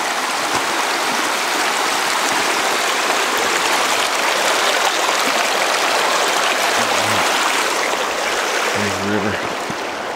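River water rushes steadily nearby on a rainy night, a broad continuous hiss and gurgle with no pauses, joined near the end by a few faint low tones.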